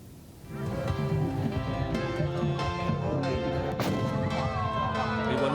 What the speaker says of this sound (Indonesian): Puluhan meriam raksasa dinyalakan bersahutan sebagai penutup momen libur Lebaran.